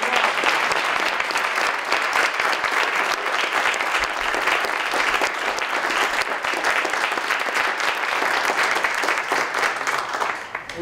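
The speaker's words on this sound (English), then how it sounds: "You guys beat me to it. I was going to start with a round of applause." A crowd at an evening roundtable event in a city museum applauds steadily and loudly, with dense continuous clapping that holds from start to finish and never fades.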